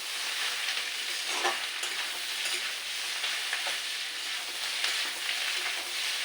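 Teasel gourd and potatoes frying with sugar stirred in, a dense continuous sizzle with scraping stirring strokes, close and steady throughout.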